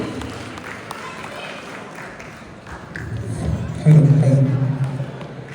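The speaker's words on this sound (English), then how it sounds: "So please give him a big round of applause." Audience applause for a performer at an Ugadi festival event, a steady wash of clapping that swells louder near the end, with crowd murmur underneath.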